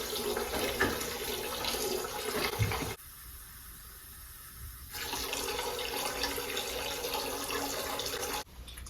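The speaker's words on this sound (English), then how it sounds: "Now I have just water coming out of the gun" Steady rushing spray of water flushing through an airless paint sprayer gun, close and fairly loud, cutting out briefly in the middle before resuming, then stopping near the end.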